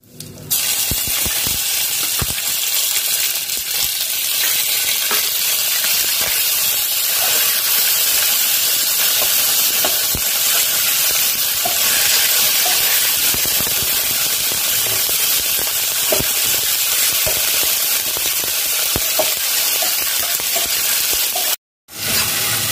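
Chopped tomato fries loudly in a hot pan for vegan daal gosht, a dense, steady sizzle and hiss with scattered pops, close and continuous throughout with a brief drop near the end.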